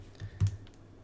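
Soft mouse clicks sound during 3D modeling work, two or three quick, faint taps close together in an otherwise quiet room.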